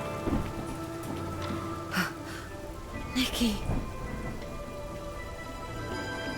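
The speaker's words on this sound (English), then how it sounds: "Oh no, the rain, obviously." Rain and thunder in the video game Infinity Nikki, steady rainfall beneath game music with a couple of brief rumbling swells, while a voice briefly speaks over it.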